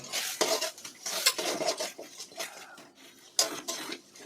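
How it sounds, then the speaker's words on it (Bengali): Chicken goes into spice masala in a pot, with irregular clinks and scrapes of a metal utensil against the cookware and a faint sizzle between the knocks. "মশলা হয়ে গেছে, তো এখন চিকেন দিয়ে দেবো।"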